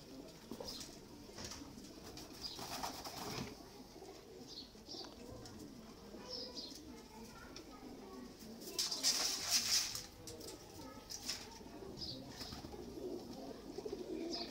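Fancy breeding pigeons coo softly in a low, murmuring background, with faint chirps and a few louder rustles partway through.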